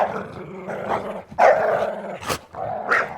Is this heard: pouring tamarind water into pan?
no